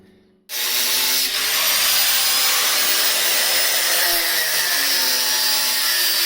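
A power tool abruptly starts cutting through a metal radiator pipe on a Mitsubishi Magna street stock car, a loud close continuous grinding screech holding steady to the end with no talk.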